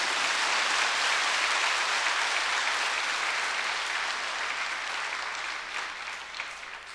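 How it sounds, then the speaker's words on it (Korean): A church congregation breaks into sustained applause honoring an elder nearing his hundredth birthday, a thick even clapping that slowly thins toward the end. "박수하세요."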